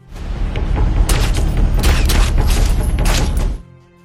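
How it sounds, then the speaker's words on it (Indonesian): A dense, continuous burst of loud booming blasts lasting a few seconds, like rapid gunfire, then cutting off abruptly. "Ketika tim medis mendengarkan suara tembakan"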